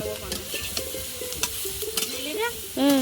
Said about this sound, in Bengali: সবজিটা ভালো করে ভেজে নিচ্ছি সব রকম মশলা দিয়ে